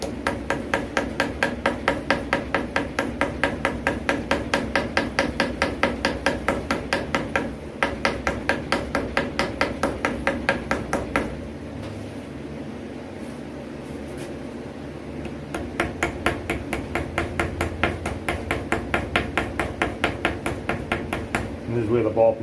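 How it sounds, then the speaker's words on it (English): A small ball peen hammer tapping gasket material over an engine's bolt holes, making a fast, steady stream of sharp metallic taps close by that runs continuously with only brief pauses. "this is where the ball peen hammer comes in real handy because it's such a small area"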